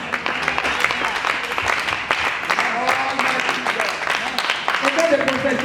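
A church congregation at a solemn opening ceremony applauds and cheers continuously, a dense wash of clapping and voices lasting throughout.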